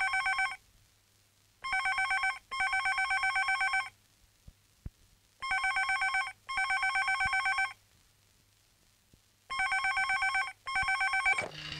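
A telephone bell rings in a film scene, loud electronic trills in three repeated double bursts separated by silent gaps, with no speech over it.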